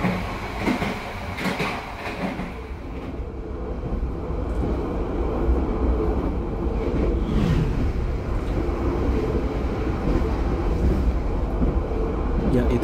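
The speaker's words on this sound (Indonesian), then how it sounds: "Suaranya berisik banget nih, geblodak." An Argo passenger train rolls through on the rails near Pemalang, a loud continuous rumbling clatter with rhythmic wheel clicks, heard close throughout.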